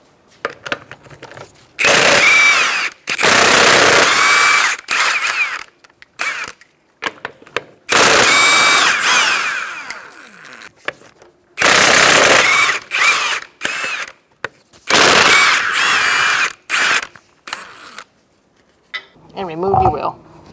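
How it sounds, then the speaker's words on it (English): An impact wrench with a 21mm socket removing a wheel from a Kia Soul, several loud rattling bursts of a few seconds each separated by pauses, close up. "Using a 21mm socket, we're going to take off our wheel."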